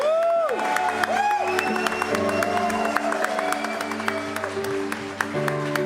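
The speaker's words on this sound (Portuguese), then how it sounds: "eu queria que você aplaudisse esse momento em nome de Jesus" During a Sunday baptism celebration, a church congregation claps amid loud sustained music with tonal notes and gliding voices, sharp clap strikes scattered across the whole stretch.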